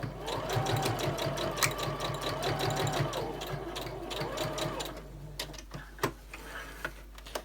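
A sewing machine stitching through four layers of quilting cotton and two layers of Soft and Stable runs in a steady, close mechanical whir for about five seconds, then stops and leaves a few sharp ticks and taps.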